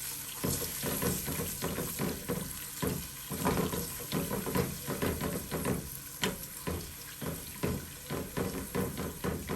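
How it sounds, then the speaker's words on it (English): A cup of water is poured into a hot pan of browning birria meat, giving a loud splashing pour mixed with bubbling sizzle and occasional stirring clatter, close up and without speech. "now I'm gonna add the cup of water."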